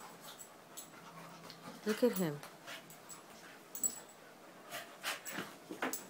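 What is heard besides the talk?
dog panting and whimpering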